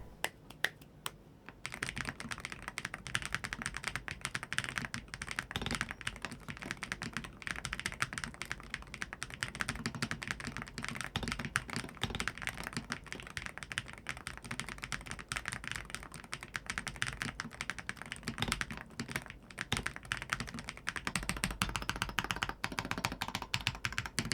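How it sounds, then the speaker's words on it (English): Rapid, continuous clacking of a WLMOUSE HUAN63 magnetic-switch mechanical keyboard being typed on, crisp and close, with brief pauses between bursts. "here's a little sound test with the switches and the keycaps on"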